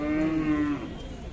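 A single long, low moo from a cow nearby at a cattle market in Sangola, Solapur, steady then fading out.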